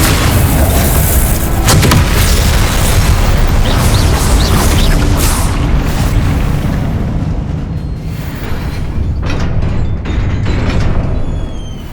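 Spell blasts explode in the Hogwarts Legacy video game, a dense, loud wall of booming impacts and crackling bursts that continues nearly unbroken, easing slightly toward the end.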